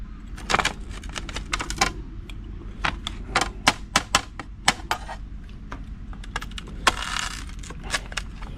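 A thin-crust pizza from a brick oven being cut, with a series of sharp, irregular clicking and tapping knocks of the cutter against the board, close and crisp over a low steady background hum.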